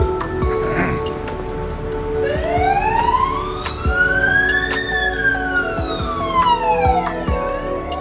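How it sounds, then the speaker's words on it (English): Ambulance siren with a police escort passing along a street in Macau, a loud wailing tone rising and falling over steady traffic noise, close by and continuous. "Actually, it's an ambulance."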